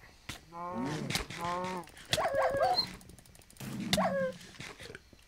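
A wolf in the Minecraft video game barks and growls in several short bursts, close and fairly loud, with brief gaps between them.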